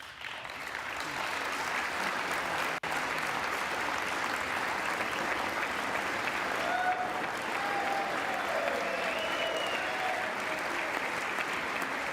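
Steady applause fills a House chamber during the Speaker vote roll call, a continuous, fairly distant wash of many hands clapping for McHenry, even and sustained for the full stretch with only a momentary break.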